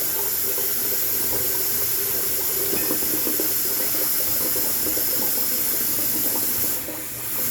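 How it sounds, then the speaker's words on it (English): Hot water runs from a tap into a sink in a steady, close rushing hiss that lasts throughout and eases slightly near the end. "Right now I'm filling the sink up with nice hot water."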